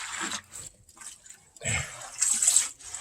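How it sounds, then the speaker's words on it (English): Collard greens are rinsed in running water, with short splashing and rushing bursts close by, separated by brief quieter gaps. "I'm still going to give them a final rinse to make sure"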